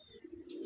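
A small, compact pigeon gives a single brief, soft coo at close range, rising slightly in loudness toward the end.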